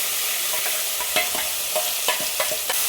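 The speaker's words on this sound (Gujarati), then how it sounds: "એમાં થોડીક હિંગ નાખશે અને આ ચટણીનો વઘાર કરી નાખવાનો" Spices and asafoetida hit hot oil in a tempering for mint chutney, a loud close sizzle with a spoon clacking and stirring in a quick irregular rhythm over the hiss.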